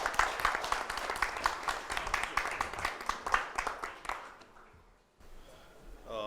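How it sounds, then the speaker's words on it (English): Audience applause at a capital market summit panel discussion, a crowd clapping in distinct rhythmic bursts that fade out after about four seconds, followed by brief quiet and faint speech. "Can we have a round of applause, ladies and gentlemen?"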